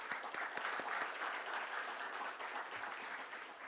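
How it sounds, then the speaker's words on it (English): Moderate, even applause from the audience at the listing ceremony of GNG Electronics Limited, a steady patter of many hands with a few sharper claps standing out, no voices on top. "Let's applaud for Mr. Ajay Pancholi."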